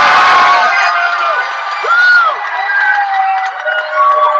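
A crowd at a culinary competition cheers and whoops for the announced winner, loud and close, with high excited shouts rising and falling over a continuous roar.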